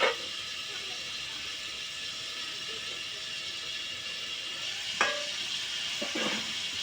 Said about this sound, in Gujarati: તો પેલા 2 થી 5 મિનિટ તેલમાં તળવા દેવાનું.